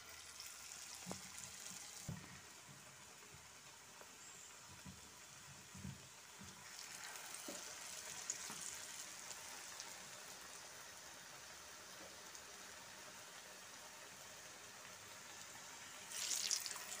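Egg bajji dropped into hot oil in a heated pan, giving a steady, fairly faint bubbling sizzle with a few soft knocks early on and a brief louder crackle near the end.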